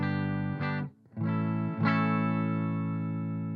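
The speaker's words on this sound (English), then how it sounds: "Here's my clean sound." Clean tone from an ESP LTD 256 electric guitar with humbuckers, played through a Maestro pedal setup: two sustained chords ring out with a short gap between them, bright, loud and alone.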